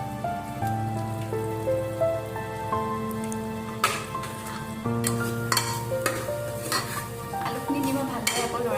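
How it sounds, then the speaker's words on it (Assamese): Fried potatoes stirred into sizzling masala for egg biryani in a pressure cooker, with a steady crackling fry and scraping spoon strokes close up. "আলুখিনি দি মই ভালদৰে আকৌ লৰাই দিছোঁ।"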